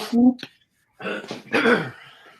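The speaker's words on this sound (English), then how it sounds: "that there is some cleansing coughing" A couple of harsh throat-clearing coughs, then a pause and a longer burst of rough, throaty coughing, close and fairly loud.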